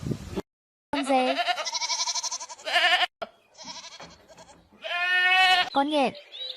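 Goat bleating in several loud, wavering calls with short pauses between them, close and clear, with no talk over it.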